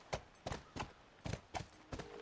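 A horse's hooves clip-clop in The Last of Us on PS3: six evenly spaced hoofbeats at a steady walking pace, close and clear, with no talking.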